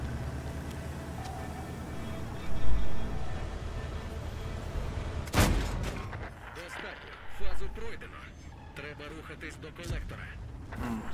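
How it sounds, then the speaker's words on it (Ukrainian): One sharp, loud boom of a video game tank firing a high-explosive shell cracks out partway through, over a constant engine rumble and scattered distant thuds, with someone talking throughout. "фугасом бахнув"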